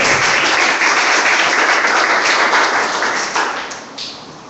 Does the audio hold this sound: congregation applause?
yes